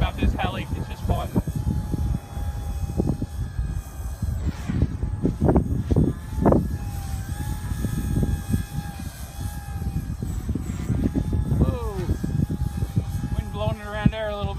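A Blade 180cfx RC helicopter flies on a windy day, its buzzing rotor and motor whine rising and falling in pitch as it is pushed around, with wind noise and someone talking over it.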